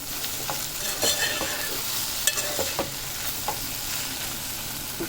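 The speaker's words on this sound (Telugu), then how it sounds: "ఒకసారి కలుపుకుందాము." Bitter gourd curry being stirred in a frying pan: a spoon scrapes and knocks against the pan in irregular strokes over a continuous close sizzle, with no talking.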